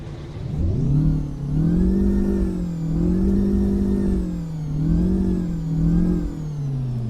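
A Peterbilt 378 truck with an 8V engine in American Truck Simulator revs loudly again and again, its deep rumble rising and falling in steady surges with no talk over it.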